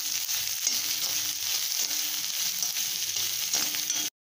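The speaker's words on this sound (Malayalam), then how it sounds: "നന്നായിട്ടൊന്ന് വഴറ്റി കൊടുക്കാം" Sliced onions and green chilies sautéing in a pan for jackfruit seed thoran, a steady close hiss of frying with faint stirring scrapes, alone, cutting off abruptly at the end.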